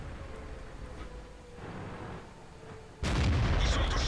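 A World of Tanks tank cannon goes off once, loud and abrupt, near the end, following about three seconds of low engine and battle ambience with no talk.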